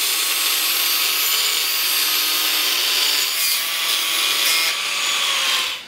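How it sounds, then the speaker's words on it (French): An angle grinder cuts a triangular shape from an old steel chisel piece, a steady, loud, high-pitched whining grind with a few brief shifts in pressure before it trails off at the end. "que je vais ensuite découper à la meuleuse"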